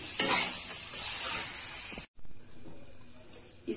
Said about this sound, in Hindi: हल्का ब्राउन होने तक भूनते रहना है।